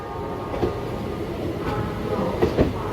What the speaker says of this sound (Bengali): ছ নম্বর প্ল্যাটফর্মে শান্টিং হচ্ছে হাওড়া দেহগড় এক্সপ্রেস